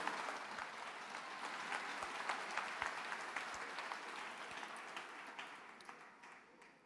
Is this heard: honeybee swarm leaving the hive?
no